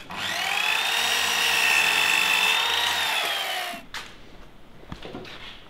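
A power saw cutting wood while building an observation beehive, a loud steady whine lasting over three seconds before stopping, then light clatter and handling noises.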